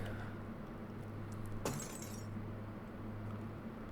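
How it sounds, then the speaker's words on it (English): Glass shatters once in the Silent Hill 4 apartment, a sharp, bright crash with a short tinkling tail over a low, steady ambient hum; no one speaks. "Somebody broke some glass."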